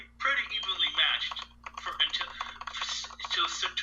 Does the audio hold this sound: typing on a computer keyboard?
yes